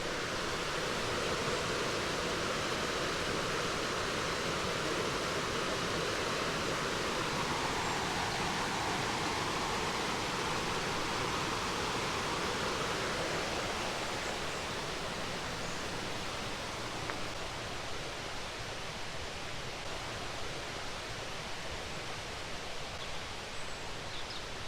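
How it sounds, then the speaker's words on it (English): A river near the Laxey Wheel flows steadily, a broad continuous rush of water that holds the same even level throughout, with no voices or other sounds. "Oh, you can't beat a good river like that"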